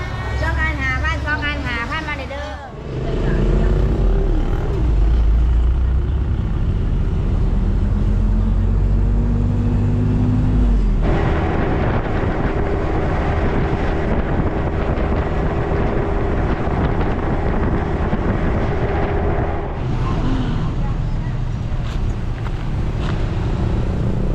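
Riding in a songthaew pickup truck taxi, an engine drones loudly with heavy wind buffeting the open back, continuous throughout, with brief tonal shifts and people talking over it.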